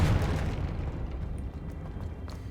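Confringo fire spell in Hogwarts Legacy, a rumbling low explosion with a dense, boomy roar that decays slowly over a couple of seconds, alone with no voices.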